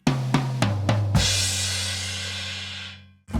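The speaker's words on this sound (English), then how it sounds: "You could go down the toms." A drum kit plays a fill down the toms: four quick descending tom hits, the last landing with a crash cymbal that rings out loud and close, then one more hit at the end.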